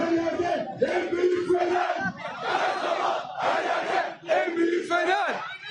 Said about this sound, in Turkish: Taraftarlarımızın tezahüratları eşliğinde Şampiyonluğun coşkusu yaşamaya kutlanmaya devam ediyor.